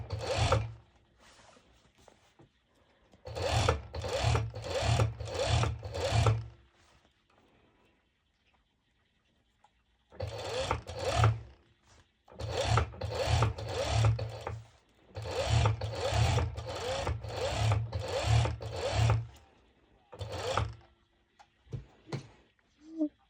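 A sewing machine stitches elastic onto a sporty long-sleeved top, running in several rapid bursts separated by short pauses, each burst a dense, even chatter of needle strokes, close and alone without talk.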